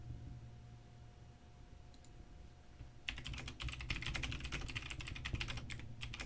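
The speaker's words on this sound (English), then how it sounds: "Hold up, I'm typing all this." Quiet room tone gives way to a close burst of rapid, uneven clicking from typing on a computer keyboard, which continues steadily to the end.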